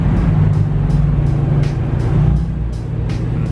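Loud, steady low engine rumble of a BMW M4 (F82) being pulled into a garage, a continuous near drone with regular faint ticking above it.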